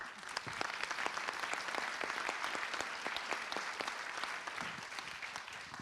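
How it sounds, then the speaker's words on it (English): Steady, dense applause from a large conference audience thanking a panel at a plenary session of a scientific health forum, many hands clapping continuously at even loudness throughout with no voices over it. "Big clap."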